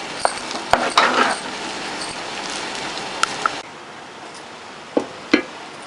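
Cooked lentil filling stirred in a pan with the stove switched off, a spatula scraping and tapping against the metal in short loud strokes, then quieter with a couple of sharp knocks.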